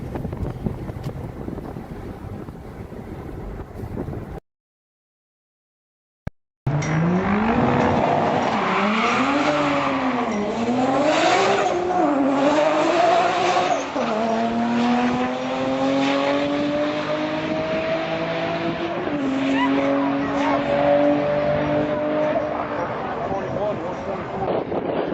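Car engine revving hard through downshifts with throttle blips for rev-matching, pitch rising and falling in repeated sweeps, with tire squeal from burnouts and wind buffeting; people talk over it and the sound drops out briefly near the start.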